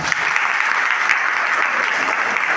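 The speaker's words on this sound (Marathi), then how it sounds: "तर काकांसाठी तुम्ही खूप टाळ्या." An audience gives loud, continuous applause at the closing ceremony of a lavani dance training camp, a dense, sustained wash of many hands clapping close by with no clear voices.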